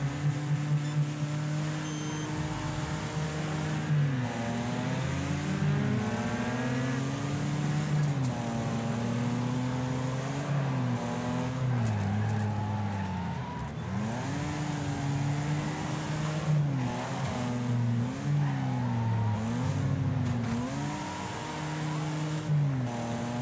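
Wreckfest race cars roaring around a track, several engines whining and swooping up and down in pitch as they shift gears, a steady close drone of overlapping motors with faint knocks, no talking.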